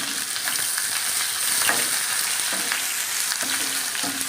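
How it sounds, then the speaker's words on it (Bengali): Onions frying in oil in a pan give a steady, close sizzle, broken now and then by soft stirring scrapes. "পেঁয়াজটা একটু লাল লাল করে ভেজে নেব।"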